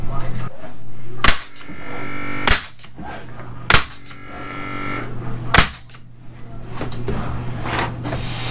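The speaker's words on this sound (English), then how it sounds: "the Vieire does power a small nail gun. It's more of a stapler, I guess" A small stapler-style nail gun fires several sharp, snappy shots while clipping siding inside an RV, spaced a second or two apart over a steady background hum.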